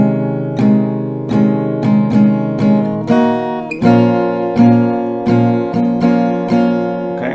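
Acoustic guitar strumming the verse chords of a song, played alone with a steady rhythmic pattern of accented strums and ringing chords, close and clear.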